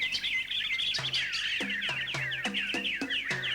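Bird chirps and tweets from an old video tape, a steady run of bright, close calls with a repeating low clucking pulse underneath, no talk.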